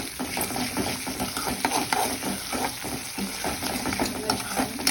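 Onion and ginger-garlic paste sautéing in a pan for palak dal bhaji, with a close, steady sizzle broken by frequent scraping stirs of a spoon.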